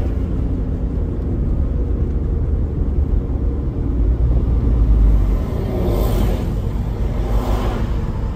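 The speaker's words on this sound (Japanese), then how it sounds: "触媒がないからこういう音がするって言ったけど、おーと思って、ちょっと虜になっちゃうような音してるよね、これ。" First-generation Suzuki Alto Works CA72V running with no catalytic converter, its engine giving a loud, steady low rumble close by with a rising surge of revs near the end, no talk over it.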